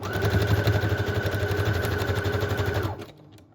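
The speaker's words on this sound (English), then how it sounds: "I'm just using a zigzag stitch, and then I will go ahead and sew it into place." A sewing machine runs a zigzag stitch across fabric with a fast, rhythmic mechanical chatter at close range, then stops abruptly near the end, leaving quiet.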